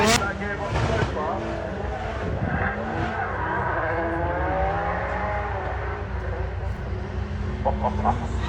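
A race car drifts at a Castle Combe JDM meet, its engine roaring and revving in rising and falling sweeps. Tires squeal as it slides sideways, loud and fairly close, while a commentator talks over it.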